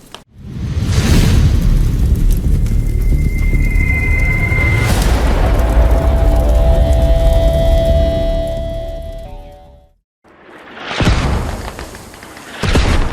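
Explosions in the military shooter Squad, a loud booming blast with a long rumbling roar that decays over several seconds, then a second sharp blast after a brief quiet gap.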